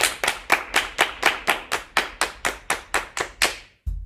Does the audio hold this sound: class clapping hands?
yes